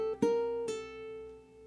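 Ukulele strummed in C in a complex syncopated rhythm, two sharp accented strums ringing out into a sustained chord, played alone and close.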